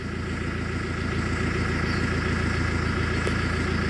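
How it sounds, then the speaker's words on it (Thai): A car engine with an EGR fault and warning light runs abnormally and steadily with a rough, droning hum throughout, loud and close, with no talking. "แล้วเครื่องยนต์มันดังผิดปกตินะครับ"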